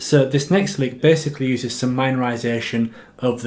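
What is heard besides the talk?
No distinct noise like a dog, phone or traffic.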